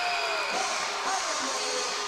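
Volleyball crowd on their feet in a college gym, a steady wash of loud cheering and shouting under continuous commentary.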